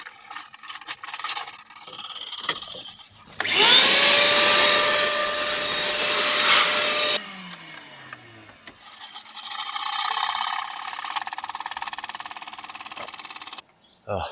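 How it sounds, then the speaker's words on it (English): An air compressor nozzle blasts air through the fan of a 1971 Toyota Celica TA22 barn-find project car, a loud steady hiss in two long bursts separated by rattling and scraping. "I cleared out the fan with the air compressor"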